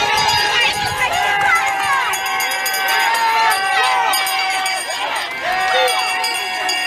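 Crowd gathered outside a Guyana election site during the 2020 elections with police present: a dense, loud hubbub of many voices, shouting and whistling, steady and close throughout.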